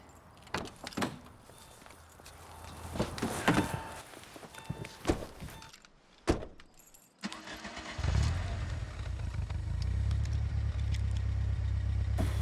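A high-performance car engine cranks and catches with a sharp burst, then settles into a steady, loud, rumbling idle, preceded by scattered thumps and clatter like a door and footsteps.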